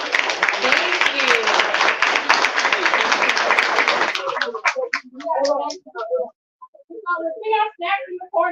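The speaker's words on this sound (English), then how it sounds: "let's give a round of applause for our lovely panelists" Audience applause for panelists at a cannabis legislation day event, a dense, loud burst of clapping for about four seconds that fades as people begin talking.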